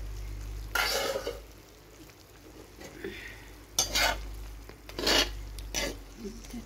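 Meat frying in hot oil in a pan, a continuous sizzle broken by several loud bursts of stirring and scraping, close and clear with no talking.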